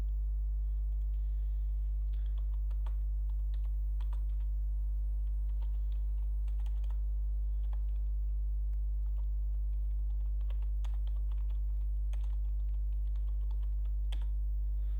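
Keys on a computer keyboard are tapped in short irregular bursts as a command is typed at a terminal, soft and close over a steady electrical hum, with no voices.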